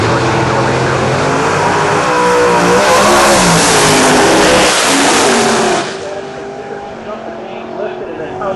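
Drag race car at the Orlando strip launching hard, its engine a loud sustained roar for several seconds before it drops away into the distance, leaving a quieter rumble while a commentator talks over it.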